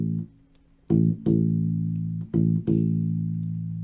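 U-Bass plucking held low notes in a sixteenth-note rhythm, several sustained tones re-struck a few times, close and clear with no talking.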